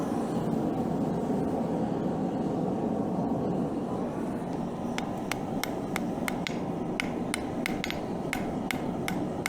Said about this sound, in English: So let's see if this will forge weld.